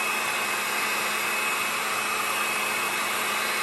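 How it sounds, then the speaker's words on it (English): A blow dryer set on high roars in a steady, loud, unbroken whoosh while heating a small Christmas gnome wreath, with no pauses or talk. "take your blow dryer and put it on high, and you want to blow dry and heat up this little wreath"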